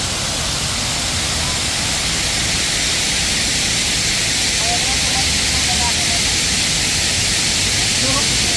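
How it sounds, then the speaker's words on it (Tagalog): Steady broadband rushing of a man-made waterfall at Khorfakkan, a dense, continuous roar of falling water heard close and unbroken, with faint voices underneath. "Sikat na sikat tong waterfalls na to. Porpakan waterfalls."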